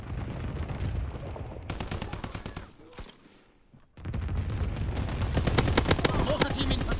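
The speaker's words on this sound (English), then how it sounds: "Flak guns firing. Clearing the skies." Flak guns pound away in a wartime video game, a dense, continuous barrage of rapid anti-aircraft fire that drops to a brief lull midway, then resumes louder and fuller, with battle noise layered throughout.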